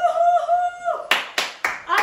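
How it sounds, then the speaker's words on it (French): A few sharp hand claps mark the end of a beginner-to-intermediate HIIT squat workout, following a sustained voice. Four loud, separate bursts arrive about a quarter second apart, close by. "Applaudissez-vous."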